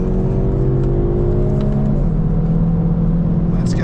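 A Hyundai i30 N with a 2-litre turbo and 8-speed dual-clutch automatic accelerates hard on the Nurburgring, its engine note climbing close and loud before a quick gear change, while someone talks over it.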